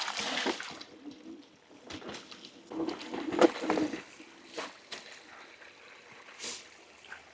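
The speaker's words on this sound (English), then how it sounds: "We're going to ford the creek here." Creek water splashing and trickling as an electric MEGAWHEELS bike fords a stream on a trail, a steady close wash of churning water with bursts of splashing and some mechanical rattle.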